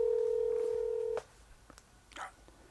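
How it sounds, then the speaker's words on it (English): A telephone being dialed gives a steady electronic keypad tone for about a second, then cuts off, leaving faint clicks and soft background noise. "I'm going to call her right now."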